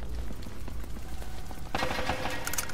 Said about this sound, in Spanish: se escuchan disparos